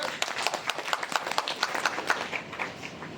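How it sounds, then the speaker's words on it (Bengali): Scattered hands clap together in an audience at a business talk, a moderate irregular patter of claps that lasts several seconds. "তাই আপনাদের সবার জন্য একটা জোরে করতালি হতে পারে।"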